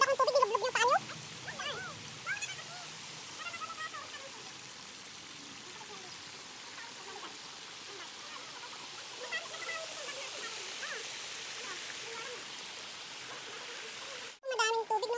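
Stream and waterfall pouring over rocks in the Shek Pan Tam potholes at Sha Tau Kok, a steady broadband rush of water throughout, with a person speaking briefly near the start and a short break near the end.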